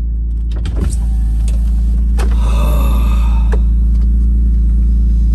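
The electric convertible roof of a BMW M3 E46 opens on a parked car, a smooth motor whir with clicks of latches and mechanism over a low idle hum.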